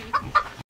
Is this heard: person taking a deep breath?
no